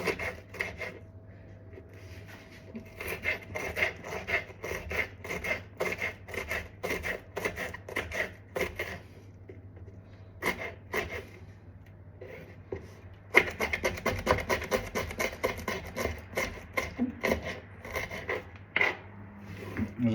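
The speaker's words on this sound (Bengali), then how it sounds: "ঘিস ঘিস করে কাটলাম মরিচ, এখন কাটবো টমেটো।" A knife chops Bangla green chilies on a board in rapid, steady, close-up taps, with a brief pause partway through before the cutting resumes slightly louder.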